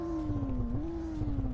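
Porsche SUV engine holding a steady rev with a faint crackle underneath, a continuous droning note that dips slightly and rises again, fairly loud and close with no talking.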